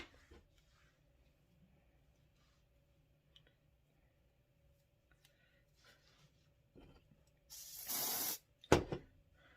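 Hair spray hisses in one loud, sustained burst of about a second during a wig install, followed by a sharp clatter, after a long stretch of quiet handling sounds.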